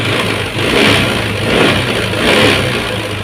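A nearby older carbureted Vario 110 motorbike engine with a faulty CDI revs up and down in repeated swells, a steady throaty drone rising and falling with no talking.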